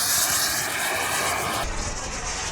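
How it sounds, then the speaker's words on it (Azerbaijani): A homemade model jet airplane flies past at an aeromodelling festival, its engine a loud, steady roaring whine that shifts in tone partway through as it passes, with no voices. "Kişi reaktiv təyyarə düzəldən də var."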